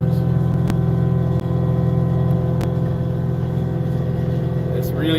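A Caterpillar 259D3 skid steer running a power rake through hard, potholed ground, its engine droning loud and steady near at about 2,500 RPM, with a few faint clicks and a short squeal near the end.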